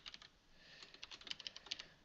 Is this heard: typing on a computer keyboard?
yes